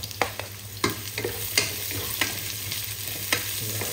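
Garlic and plenty of onion stir-fried in a pan sizzle steadily, with a low hum underneath and sharp spatula scrapes and clacks every half second or so, close up and without speech.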